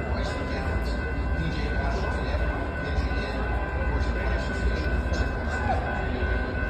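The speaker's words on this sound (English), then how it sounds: "The train's coming." A Lynx light rail train rumbles steadily nearby at a railroad crossing with a constant high electrical whine overhead, sustained throughout with no pause.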